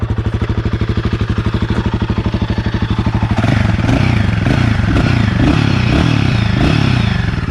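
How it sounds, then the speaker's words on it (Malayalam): A Royal Enfield Himalayan 450 motorcycle's exhaust thumps in a fast, steady idle pulse, then swells into a louder, rougher rev with crackling bursts, close and loud with no talking. "ഇതാണ് ഇതിൻ്റെ എക്സോസ്റ്റ് എന്ന് പറയുമ്പോൾ."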